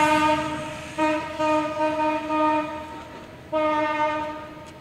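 A train horn sounds in long, sustained blasts, with a short gap near the start and a longer pause before a final loud blast, heard on its own with no voices.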